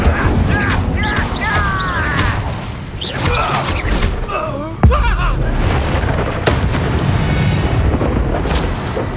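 A fire spell is cast in Hogwarts Legacy during an arena battle, bringing loud booming blasts and rumbling impacts mixed with whooshing magical effects and a sharp thud midway, all dense and close.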